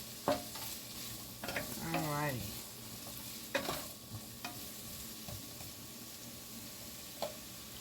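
A veggie medley sizzles faintly in a pan while a utensil stirs and scrapes through it in a few distinct strokes, the quiet frying hiss running underneath throughout.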